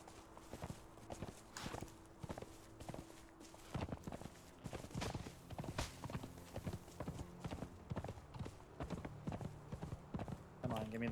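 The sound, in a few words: horse hooves clip-clopping in video game Conan Exiles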